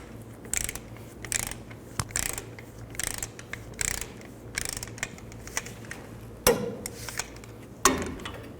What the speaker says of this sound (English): Then tighten the caliper bolts to 80 foot-pounds.